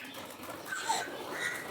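Racing homer pigeons in a loft, soft cooing and bird calls close by with faint wing flutters, steady ambient chatter of a flock and no voices.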